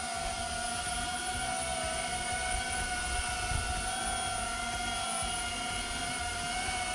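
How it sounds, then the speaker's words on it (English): A small multirotor drone yaws a full 360 degrees on the spot, giving a steady, loud high-pitched propeller whine with stable tonal bands and a low buzzing rumble underneath, unchanging for several seconds. "we're going to just yaw the drone on the spot"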